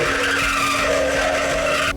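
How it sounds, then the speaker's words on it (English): Steady high-pitched whine of a drill boring holes through the steel of a sailing yacht hull under construction, loud and continuous for the whole stretch, with no talk over it. "what I need to do is actually get some holes drilled."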